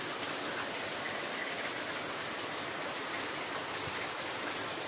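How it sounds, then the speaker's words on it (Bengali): Monsoon rain falls steadily on pink lily flowers and foliage, a dense, even hiss of drops that stays constant and moderately quiet throughout, with no voices. "এই যে বর্ষাকাল বৃষ্টি হয়ে যাচ্ছে"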